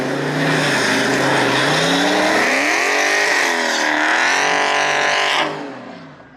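Dodge Charger Hellcat and Scat Pack launch in snow with wheels spinning: a loud, sustained engine roar with rising and falling revs close by, then tapering off near the end.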